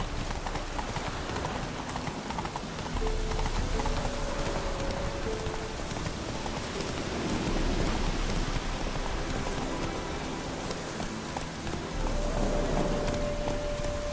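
Steady rain hisses and patters in The Witcher 3, a dense, continuous wash with faint hoof clops and low rumbles beneath, holding an even level throughout with soft musical tones drifting in and out.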